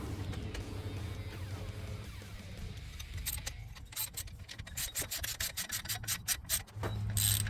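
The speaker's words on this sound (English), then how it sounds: "Now we're going to bolt that in all the way down." Brake parts are being bolted onto a semi truck, heard as a quiet scraping rub followed by bursts of rapid ratcheting clicks as the bolt is tightened down, with no talking.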